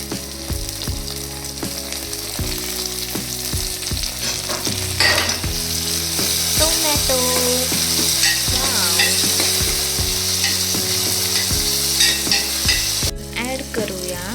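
Tomatoes sizzling loudly in a hot tempering of oil in a pan for Maharashtrian khichdi, a dense continuous fry with stirring scrapes throughout and a quiet tonal hum underneath.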